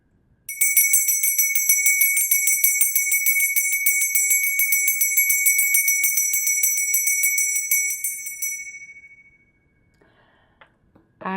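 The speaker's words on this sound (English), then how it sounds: "There's gonna be a sound from the bell." A bright bell rings out close and clear, sustaining evenly for several seconds before fading away, with a faint bump of handling noise at the end.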